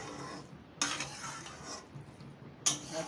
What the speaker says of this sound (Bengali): তো আমি বাঁধাকপিটা মিলিয়ে নেবো।